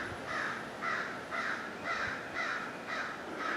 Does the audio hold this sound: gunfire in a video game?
no